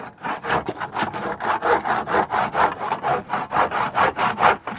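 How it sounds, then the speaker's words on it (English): A handsaw cuts through a piece of wood in a steady back-and-forth rhythm of about a dozen loud, close rasping strokes, with no talking over it. "Press down your handsaw, put pressure on this as much as you can."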